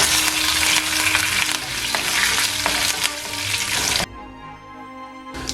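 Curry leaves and dried chillies crackle and sizzle loudly in hot oil for a Jaffna-style pumpkin curry tempering, with a few sharp pops, then the frying drops away abruptly near the end.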